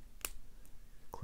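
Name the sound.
Master Lock No. 533 padlock pin clicking while being picked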